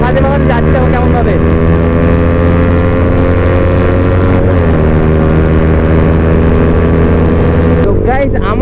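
Superbikes on a Sunday group ride, including a Kawasaki Z900, rev and accelerate in a loud, steady engine roar that holds throughout and shifts pitch near the end as the bikes pull away.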